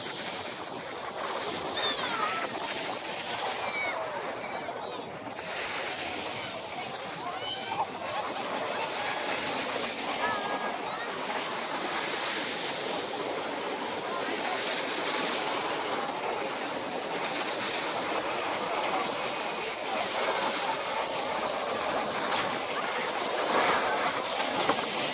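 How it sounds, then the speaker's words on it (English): A cruise ship heads out of the Port of Miami during an air and sea show on Miami Beach, heard as a steady wash of surf, water and wind noise with a broad, continuous rumble and no distinct voices. "Cruise ship going out, Port of Miami."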